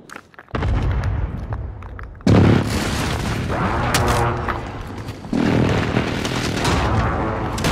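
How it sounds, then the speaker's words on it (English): Enemy precision airstrike explosions in a video game hit as heavy, loud booms that keep rolling in sustained waves of blasts and debris, with a fresh impact partway through and another surge near the end, with no voices over them. "Enemy precision airstrike."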